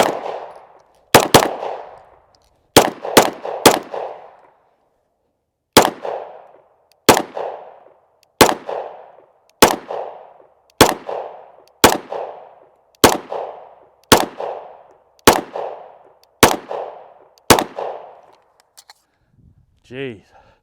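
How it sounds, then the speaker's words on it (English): A Sig Sauer P226 X5 Legion pistol fires a magazine at an outdoor range, sharp loud close gunshots in a string of about sixteen, some in quick pairs then evenly spaced, each with a short ringing tail, no talk. "But I just shot those 20 rounds on the left paper target"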